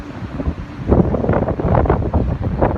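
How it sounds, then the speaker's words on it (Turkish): Strong wind in Germany roars and buffets the microphone in continuous low rumbling gusts, with no voices. "bu şiddetli rüzgar Almanya'da nasıl ortalığı kasıp"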